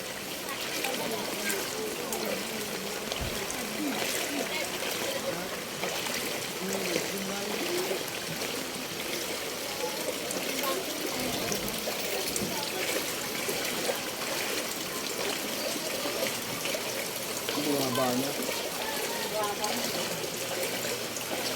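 Floodwater flows through a street in a flooded Quezon City neighbourhood, heard as a continuous rushing, trickling wash that runs steadily throughout, with people talking intermittently over it.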